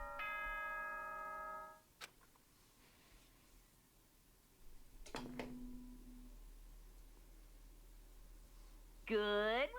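Announcement chime from the video game Danganronpa Trigger Happy Havoc: a bright, wavering ding-dong tone rings out near the end after quieter tonal notes and faint rustling.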